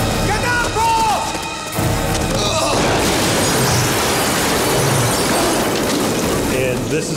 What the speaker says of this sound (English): Explosion, flames flying out the windows.